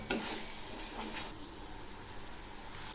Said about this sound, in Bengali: এই মশলাগুলো খুব ভালো করে কষিয়ে নেব, যাতে এর কাঁচা গন্ধটা না থাকে